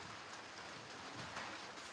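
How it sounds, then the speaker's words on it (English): Heavy rain pouring at a racing pigeon loft in the high desert, a dense, continuous hiss of drops drumming steadily and close, with no voices. "we don't get rain like this often"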